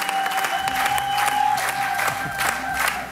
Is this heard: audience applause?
yes